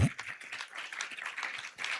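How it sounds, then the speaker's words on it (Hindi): An audience claps at a religious gathering honouring Jain monks, with a dense, steady patter of applause from many hands lasting throughout, moderately loud and slightly distant. "ताली बजाओ, सुना तो सबने।"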